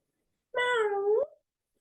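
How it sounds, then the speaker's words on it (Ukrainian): A cat stuck up in a tree gives a single clear, drawn-out meow, close and alone against silence. "бачимо котика, що він там застряг на дереві, йому потрібна ще допомога"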